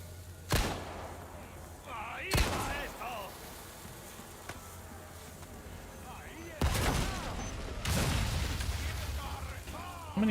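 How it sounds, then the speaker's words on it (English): Explosions and grenade blasts in the Resident Evil 4 video game: several loud, sharp bursts at irregular intervals, with rumbling tails and faint game sounds and voices between them. "many grenades or explosives are being thrown right now?"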